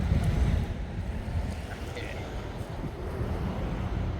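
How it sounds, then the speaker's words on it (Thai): Strong wind blowing outdoors at an RC helicopter flying and setup session, a loud, steady roar buffeting the microphone throughout. "นี่ลมแรงนะครับ"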